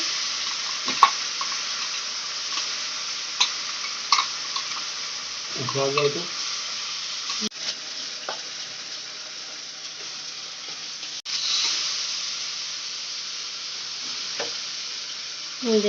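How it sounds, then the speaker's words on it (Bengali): Onion, ginger, garlic and tomato paste fries with spices in a pan, a soft steady sizzle with occasional stirring clinks and scrapes, some brief background noises. "পেঁয়াজ বাটা আদা বাটা রসুন বাটা টমেটো বাটা পেস্টটা দিয়ে ভালো করে কষিয়ে নিচ্ছি মশলার সাথে"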